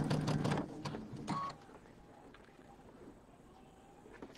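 A home sewing machine stitches a quarter-inch seam joining two fabric halves of a quilt square, running in a short, close whirring burst, then a second brief run before going quiet.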